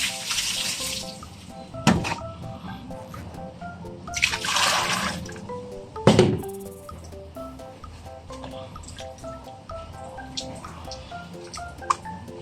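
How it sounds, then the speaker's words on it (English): Tap water runs in bursts to rinse soap out of stained fabric during salt stain removal, with louder splashing gushes near the start and middle over a steady background of dripping and trickling. "Always remember to rinse it 3 times. Rinse it until the soap is gone."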